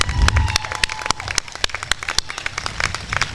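Applause from a commencement crowd honoring graduating Phi Theta Kappa members at a community college ceremony, a steady patter of many hands with sharp individual claps standing out throughout.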